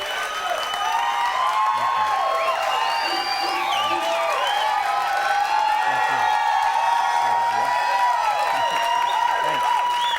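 A big audience claps and cheers throughout, sustained applause with whoops and voices calling out over it.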